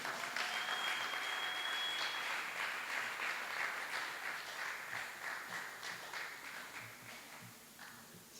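Steady audience applause for a slam poet at a spoken-word event, a dense wash of many hands clapping at fairly even loudness that thins slightly toward the end.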